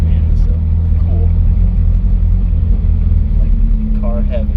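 Ferrari F40 interior ride with a steady, loud low engine rumble throughout, a few faint chirpy squeaks riding on top near the start and end.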